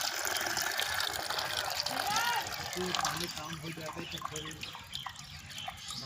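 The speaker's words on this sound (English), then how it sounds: "This is the way to get water through this machine. This operated by hand" Water gushing and splashing from a hand-operated pump in an Indian village, irregular flowing and dripping under someone talking, moderately close.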